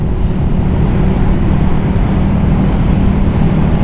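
A KTM Super Duke Gen 2 with a 1301cc V-twin engine rumbles loud and steady throughout, a dense low-frequency drone mixed with wind rush and no voices.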